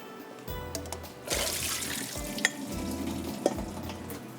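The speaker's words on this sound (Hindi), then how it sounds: "आलू डालेंगे और आलू को थोड़ी देर फ्राई करेंगे" Potatoes frying in a pan for a chicken malai boti dish, a steady close sizzle with stirring scrapes and a couple of sharp clinks, no voices.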